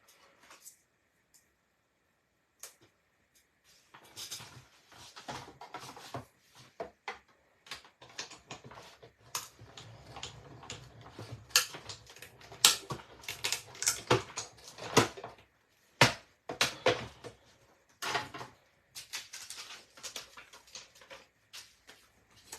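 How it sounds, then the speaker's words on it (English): A die cutting machine presses out a 15 centimetre circle die for handmade Christmas tags and cards, heard as faint, close clicks, taps and irregular rattling patters, with quiet pauses between bursts. "quickly die cut that one out"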